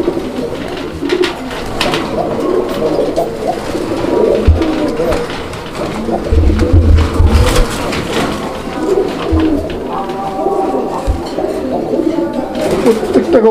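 Raj-golla pigeons at a crowded bird market, soft cooing scattered under a steady hum of background chatter and bustle.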